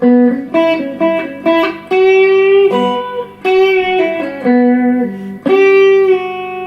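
Electric guitar playing a blues phrase with string bends, sustained notes pushed up in pitch and released, loud and close with a mildly overdriven tone, no voices.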